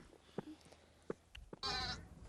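A young goat raised by Nenets herders gives one loud, wavering bleat near the end, preceded by scattered soft knocks and rustles.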